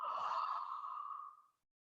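A person gives one long, breathy yawn-like exhale during a qigong stretching exercise. The sigh fades out after about a second and a half and is followed by silence.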